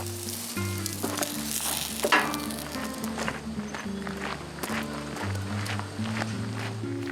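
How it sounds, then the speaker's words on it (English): Food sizzles on a busy restaurant cooker, a steady broadband hiss running throughout with sharp clatters and knocks on top and a low hum beneath, no voices heard. "But the rule here is, Michael, once the cooker's going, You cook everything you can."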